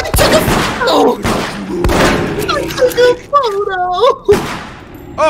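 Bursts of loud video game gunfire thump and crack between bouts of excited shouting, with rapid shots clustered in the first half and a few later blasts under the voices.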